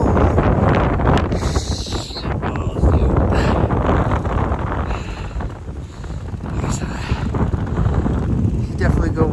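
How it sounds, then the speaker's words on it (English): Strong, gusty wind in a snowy blizzard roars and buffets the microphone almost without pause, loud and close, with a voice talking intermittently through it. "These breezes are nasty."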